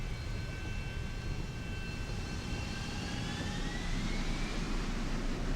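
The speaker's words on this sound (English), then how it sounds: "This is like a jet thing." Jet-like aircraft engine in the video game Deus Ex: Human Revolution, a steady loud roar with a high whine that slowly rises and swells toward the end, heard alone with no talk.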